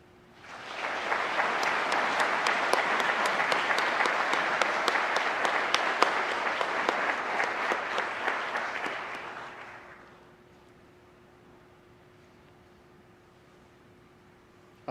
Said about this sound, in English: How about another round of applause for Officer Kelson?